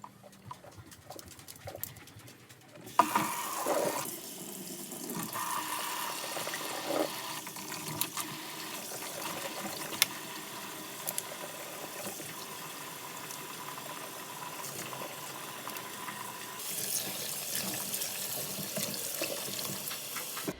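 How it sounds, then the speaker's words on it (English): Tap water runs into a kitchen sink while broccoli is washed, a steady moderate stream that starts after a few seconds of clattering and stays fairly quiet and continuous. "I like to go through and wash the broccoli like at least 3 times"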